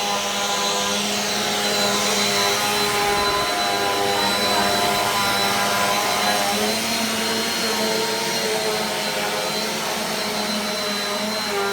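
A Eureka AirSpeed Ultra lightweight vacuum cleaner runs steadily and loudly at close range, its motor whine holding an even pitch throughout.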